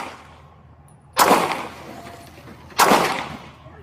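Two pellet rifle shots fired at a garage during an ambush on a police officer, each a sharp crack with a short noisy tail, spaced about one and a half seconds apart over a quiet background.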